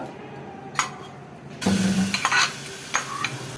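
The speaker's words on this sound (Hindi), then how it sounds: "इसको हम अच्छे से जो है ना इसको भूनेंगे इसमें ऑयल में तकरीबन 2 से 3 मिनट।" Date paste frying in desi ghee with a spoon pressing and stirring it: quiet at first, then a louder sizzle with scraping strokes and a couple of sharp clinks near the pan.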